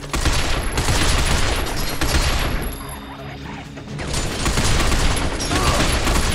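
Heavy continuous gunfire from shooting in the video game Binary Domain, loud rapid automatic bursts that ease briefly midway and then surge back, with no talk over them.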